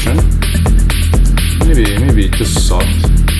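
Dark techno in the style of Adam Beyer and Charlotte de Witte pounds along with a loud, steady kick and throbbing bass, coated in thick, buzzing old-school distortion and swept, warbling synth tones.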